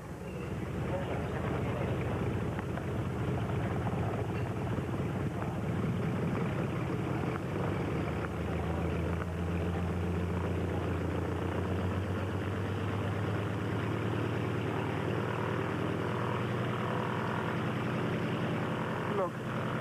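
Steady, loud engine drone of an aircraft for London, a continuous low rumble and hum with no break, holding close and constant throughout.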